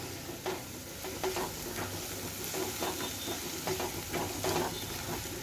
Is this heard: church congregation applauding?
no